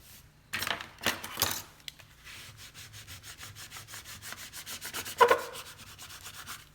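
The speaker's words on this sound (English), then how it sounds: "You gotta burnish this down." Cricut transfer tape being burnished down onto adhesive foil with a scraper tool, a few quick rubbing strokes, then a run of fast, even scraping passes, close and soft, with no talking.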